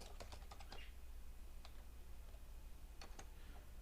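Keys on a computer keyboard are tapped in a short quick cluster, then a few isolated strokes after a pause, faint against a steady low hum while a terminal command is entered.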